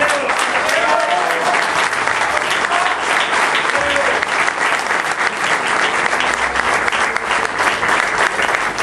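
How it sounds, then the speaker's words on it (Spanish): A crowd at an Argentine political campaign event breaks into strong, sustained applause, dense clapping continuing loudly throughout with voices mixed in. "para quien pide un fuerte aplauso."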